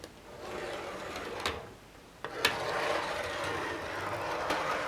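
A Midland Pullman MK3 first class open model carriage rolls along track with a steady, continuous low rumble and whirr, a brief lull partway through, then the rolling sound resumes with small clicks at rail joints.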